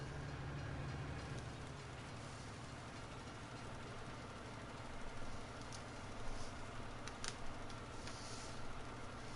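A train rolls past in the Farming Simulator 19 game on PS4, a steady low rumble with clacking wheel noise running the whole stretch, holding fairly even with small surges near the end.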